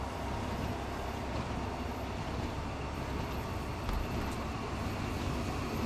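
A train in the Train Sim World 2 video game on a West Cornwall local line rolls and slows, with a steady low rumble and faint brake hiss, no voices.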